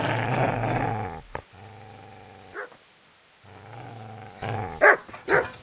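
A dog in the medieval game Kingdom Come: Deliverance growls in long, low rumbling stretches, then breaks into a couple of sharp, loud barks near the end, close and alone without talk.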